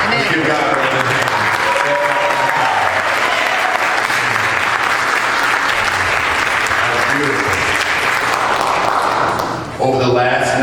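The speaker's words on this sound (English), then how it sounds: "Let's give God a round of applause." Congregation applause at a church service, loud and sustained for about ten seconds, with music and voices underneath, dropping off near the end.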